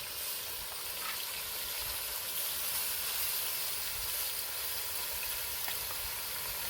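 Curry cooking in a pot on an outdoor coal fire stove, a steady broad hiss and sizzle with no breaks, close and fairly loud.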